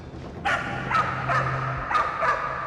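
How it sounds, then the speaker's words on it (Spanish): A dog barks five times in sharp, evenly spaced yips at moderate distance, over a low steady hum. "¿Por qué está ladrando así?"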